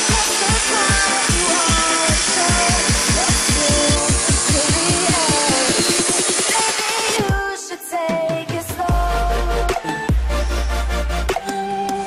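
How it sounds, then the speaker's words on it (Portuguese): A power saw cuts through a metal piece of turbo piping on a VW Gol Turbo, a loud, steady grinding with rapid rhythmic pulses for several seconds, then stopping and restarting in short bursts of cutting, close to the microphone. "Vou cortar esse pedaço aqui agora por causa da válvula"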